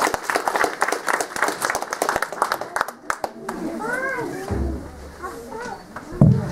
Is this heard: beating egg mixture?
no